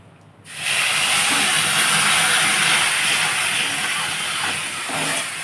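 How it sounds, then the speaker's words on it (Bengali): Water added bit by bit to hot semolina cooked with sugar in ghee, bursting into a loud, sustained steam hiss that stays strong and close. "এবারে আমি অল্প অল্প করে জল দেবো যাতে ডেলা না যেন পাকায়"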